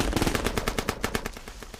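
Rapid machine-gun fire from a film firefight's sound effects, a dense, loud burst of evenly spaced shots that rattles on without a break.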